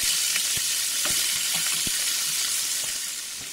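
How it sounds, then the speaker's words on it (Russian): Chopped onions frying in olive oil in a pan, a steady close sizzle and crackle with scattered pops and stirring clicks, no talking. "Начинаю обжаривать лук."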